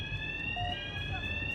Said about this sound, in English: I spotted a fire alarm and let the intrusive thoughts win